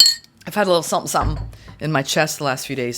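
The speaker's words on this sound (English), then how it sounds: "Sorry for the noise with the metal on the glass." A metal spoon clinks against a glass of lemon water in a short ringing chime at the start, then a voice talks over the rest.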